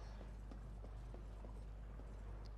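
Horse hooves clip-clopping in the game Darksiders, a faint run of light, evenly spaced hoof taps over a low steady hum, no talking.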